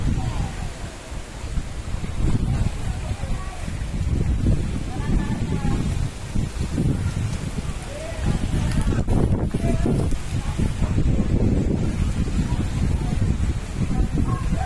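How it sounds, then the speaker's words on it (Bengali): Kalbaishakhi nor'wester storm wind roaring steadily and loudly, with gusty rushing and rustling throughout, close to the microphone and buffeting it. "ইতিমধ্যে কালবৈশাখী ঝড় শুরু হয়ে গেছে, দেখেন কি পরিমাণে তাণ্ডব চালাইতেছে।"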